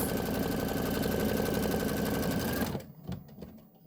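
A sewing machine stitches a quilting design on a quilted tile, running steadily and loudly up close for nearly three seconds, then stopping to leave faint handling noises.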